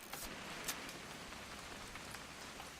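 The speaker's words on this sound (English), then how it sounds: "It's gonna rain the whole weekend, isn't it?" Steady rain falling in the video game What Remains of Edith Finch, a continuous soft hiss of drops on surfaces with a few slightly sharper patters, no voices.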